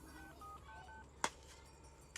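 Telephone dialing before a call: a brief sharp tone burst near the middle and another short blip at the end, over faint steady background hum, with no talking.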